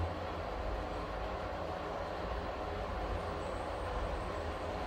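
Otis Gen2 hotel lift car at the Tivoli Hotel in Copenhagen rattling as it travels, a steady low rumble with a faint continuous rattle under it and no voices.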